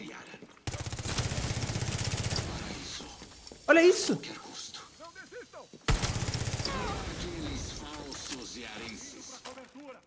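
Rapid bursts of automatic gunfire from the video game Far Cry 6 crackle loudly in two long stretches, separated by a brief quiet gap, with someone talking excitedly over the shooting.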